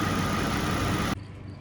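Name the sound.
2008 Ford Ranger 2.3L engine idling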